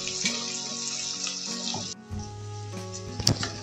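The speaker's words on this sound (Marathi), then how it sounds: "आपल्या भाज्या थोड्याशा 5 मिनिटं या भाज्याला आपण परतून घेऊया" Mixed vegetables for sattvic khichdi sauté in a hot pan, giving a steady close hiss of sizzling with a few soft knocks and stirs, and no voices.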